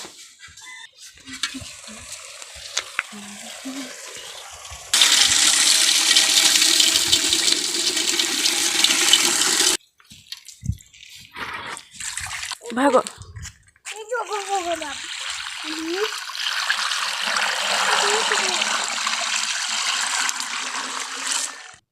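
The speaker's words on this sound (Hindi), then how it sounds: "पानी डाल दिए मिट्टी में" Water fetched from a tank in a vessel is poured onto soil in two long, loud rushing pours, separated by speech, brief splashes and a rooster crowing in the background.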